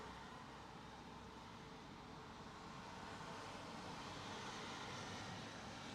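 A British Airways Airbus A380 taxiing at London Heathrow gives off a steady, distant broadband jet roar. The quiet, even engine noise stays level throughout, mixed with general airport background hum.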